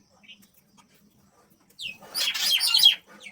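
A small group of birds chirps and twitters at close range while being fed biscuits, a short burst of busy calls rising out of near silence near the end.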